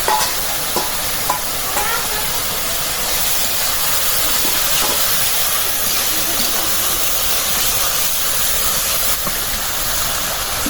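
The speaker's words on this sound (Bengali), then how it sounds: "মশলা কষে নিলাম এই যে এখন মাছ দিয়ে দিলাম" Fish dropped into a pan of fried-down spices sizzles and hisses steadily at close range, a continuous frying sound with occasional stirring scrapes and no talk.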